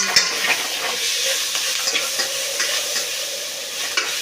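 Chicken biryani ingredients sizzle and are stirred in a hot pan, with steady frying hiss and light scraping clicks of a spatula, close up, no voices.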